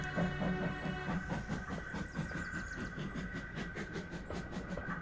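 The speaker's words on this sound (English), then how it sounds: "he found it hard to start the heavy train" A train's steady mechanical rumble with rhythmic clanking and a sustained hiss, loud and close throughout, no voices.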